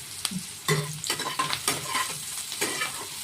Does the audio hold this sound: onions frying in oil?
yes